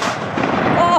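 A single loud shotgun blast during a bird hunt, close and booming with a rolling decay.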